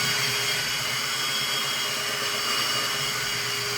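A Shark vacuum mop runs nonstop with a steady, loud motor whir and broadband hiss, heard close up and alone for a few seconds.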